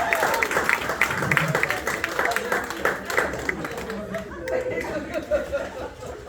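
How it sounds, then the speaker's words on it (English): Comedy show audience applauding and cheering with scattered chuckles, a dense, steady wash of clapping and crowd noise lasting throughout, fairly near and loud. "Y'all clap it up for yourself"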